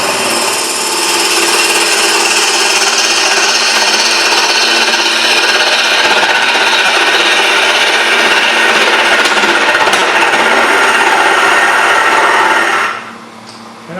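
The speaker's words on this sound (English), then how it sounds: "I just turn the gouge with the bevel perpendicular and go straight in." A wood lathe spins a sphere blank while a gouge cuts straight in to square its end, giving a loud, steady, rasping cut. The sound runs unbroken, then stops abruptly near the end.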